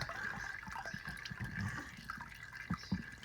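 Motor oil draining from the removed filter area of a Chevrolet Silverado during an oil change, a faint irregular trickle and patter of liquid with a few soft drips and splashes, no talk.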